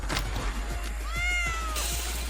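A cat meows clearly, one drawn-out rising and falling call standing out over a low steady hum and faint background clatter.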